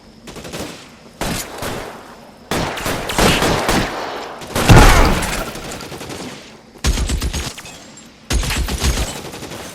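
Gunfire in the video game L.A. Noire: loud, bursty volleys of shots in several separated clusters, rapid and echoing, with short gaps between bursts and no talk over them.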